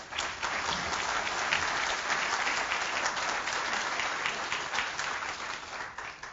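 Audience applause welcoming keynote speaker Dave Lawler to the stage at a 2018 energy symposium: steady, dense clapping from a large crowd, even and sustained throughout with no voices rising above it.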